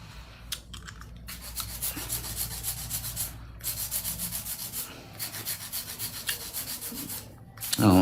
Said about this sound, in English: Sometimes hand filing, definitely a way to go.